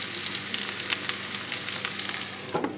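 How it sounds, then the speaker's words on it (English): Milkweed tossed into hot oil for a burdock and milkweed stir-fry, giving a loud steady sizzle with crackles and a few sharper scraping clicks near the end, no voices. "Let's go ahead and throw that milkweed in there."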